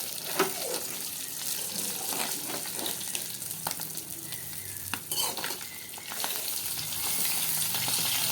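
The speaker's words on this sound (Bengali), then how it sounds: "এখন আমি মাছগুলো সরিষার তেলের মধ্যে দিয়ে ভেজে নিচ্ছি।" Fish frying in mustard oil in a home kitchen, a steady loud sizzle with occasional stirring scrapes and clicks throughout, close by and without talk.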